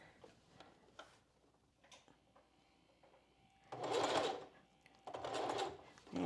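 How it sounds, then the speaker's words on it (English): A sewing machine stitches slowly along the boning of a strapless bra. Faint ticks come first, then two loud bursts of rapid mechanical stitching close by. A quiet voice is heard faintly near the start. "So we're just going to sew nice and slowly."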